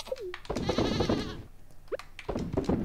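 Goat bleats from the Stardew Valley farming game, a wavering bleat near the middle followed by a short higher call, mixed with other game sounds and brief background talk.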